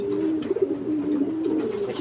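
A racing pigeon in a loft coos in a steady, rolling murmur, close and clear, with no talk over it.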